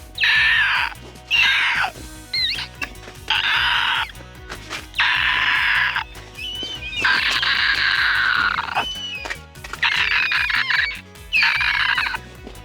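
A child imitates a bald eagle's call with repeated loud, harsh screeching shrieks in bursts separated by short gaps, sounding close and bird-like.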